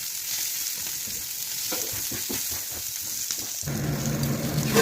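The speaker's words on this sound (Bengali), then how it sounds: "এটা হচ্ছে ড্রাই চিলি চিকেনের গ্রেভিটা আমি বানাচ্ছি।" Dry chilli chicken gravy with capsicum and green chilli frying in a pan, a steady close sizzle with scraping stir strokes that grows louder and denser near the end, no voices.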